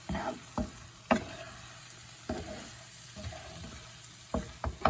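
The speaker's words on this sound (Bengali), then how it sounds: "আদা রসুন এগুলোকে ভালো করে নেড়ে নিচ্ছি।" Ginger and garlic frying in a pan and stirred with a spoon, with scattered scraping clacks over a steady low sizzle, close and fairly quiet, no voices.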